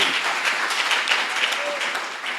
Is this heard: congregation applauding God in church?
yes